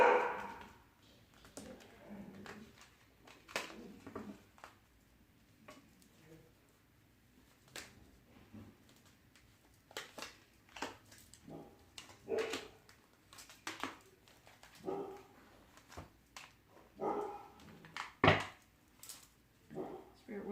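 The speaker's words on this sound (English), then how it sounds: "Of course the dogs would start, right?" Dogs barking intermittently at a distance, scattered short yaps and barks spread across the span, fairly faint with background noise.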